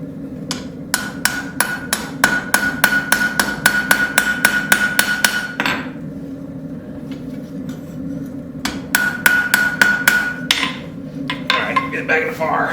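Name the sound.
hammer forging a railroad spike knife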